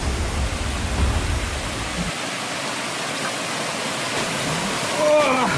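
Steady rushing roar of a roughly 580-foot waterfall, broad and continuous, close by, with a brief faint voice-like sound near the end.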